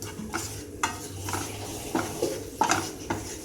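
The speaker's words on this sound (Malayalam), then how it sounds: "പൊടികളെല്ലാം ചേർത്ത് നന്നായിട്ടൊന്ന് ഇളക്കി കൊടുക്കുക." A spoon stirs coriander and chilli powder into coconut in a pan over low flame, giving soft, repeated scraping strokes with light clinks and a faint sizzle, close by and unaccompanied.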